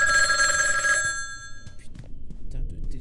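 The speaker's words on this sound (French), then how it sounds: "Putain de téléphone de merde" A telephone bell rings loudly in a dark horror game setting, a sustained bright ring lasting about a second before cutting off, followed by quieter clicks and shuffling sounds.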